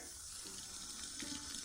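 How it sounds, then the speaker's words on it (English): Water runs steadily from a hose or tap while flowers are being watered, a continuous close hiss with slight surges and no voices over it. "I was watering Honey Baby's flowers here."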